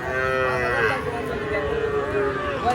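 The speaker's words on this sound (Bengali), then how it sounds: "এটা হচ্ছে দেশি বাছুর" A local breed calf moos in a long drawn-out call at a busy qurbani cattle market, with people talking in the background.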